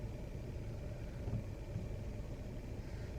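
A Cadillac XT4 backs up slowly under automatic park assist, its engine giving a steady, quiet low rumble close by with no talk over it.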